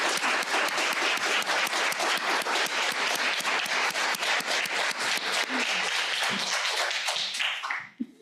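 Loud, dense applause from an audience at a talk on constitutional arguments for transgender rights, a steady wash of many hands clapping for about eight seconds before fading out at the end.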